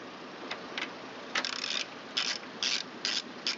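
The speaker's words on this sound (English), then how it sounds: "Tighten the bolts in small increments because you're pressing against a very flimsy sheet metal" Ratcheting wrench tightening bolts on the flimsy sheet metal flange of a Craftsman or MTD walk-behind string trimmer, with brief clicking bursts in small increments, close and fairly quiet.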